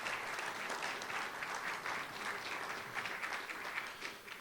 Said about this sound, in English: So a round of applause for yourselves